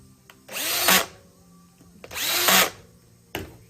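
A power drill drives screws into a folding infeed support for a table saw, two sustained whirring runs about a second each, close and clear, followed by a brief third blip.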